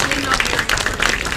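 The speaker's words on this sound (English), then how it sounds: "please give a big round of applause to the silver medal winning team" An audience claps for the silver-medal recurve archery team at the Australian Open teams finals, a dense burst of applause under an announcer's voice.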